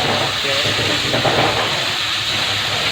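Ground tomato masala fries and is stirred in a pan for a Diwali recipe. A loud, dense, continuous sizzling hiss fills the whole stretch with no break.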